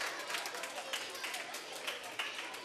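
Group applause on a Spanish-language game show, dense, fairly distant clapping with sharper claps poking through, a steady wash that holds for a few seconds.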